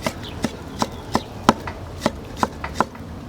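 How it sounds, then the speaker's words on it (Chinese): A freshly sharpened kitchen knife chops pork into mince on a board, about nine crisp, evenly spaced thuds ringing out close and clear over a quiet background. "把这个肉切末"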